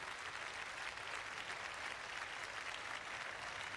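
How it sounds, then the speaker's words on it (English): A cricket crowd at the 1989–90 Australia vs Pakistan first Test applauds Ijaz. The steady clapping is broad and somewhat distant, like a stadium, and it continues evenly without any voices on top. "Ijaz acknowledging the applause"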